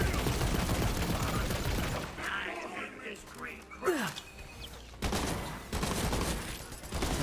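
Rapid gunfire from a weapon in the video game Borderlands 3, heavy bursts at the start and again after a short lull, with voices in between.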